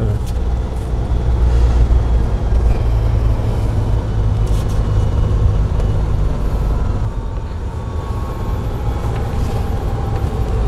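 A car climbing and driving through a hill-start slope on a driving licence test course, a steady low engine hum and road rumble with the throttle eased gently.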